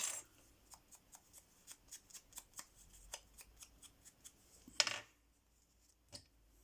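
Scissors snip paper in a steady run of about a dozen crisp, evenly spaced cuts while trimming a flower shape for a handmade card frame, close and fairly quiet, followed by a brief clatter and near silence.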